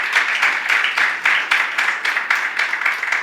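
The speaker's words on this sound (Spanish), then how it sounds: "Le podemos dar un aplauso a nuestro Señor Jesucristo" A church congregation applauding together, a sustained bright patter of many hands clapping in slightly uneven waves, fairly loud and close, with no speech over it.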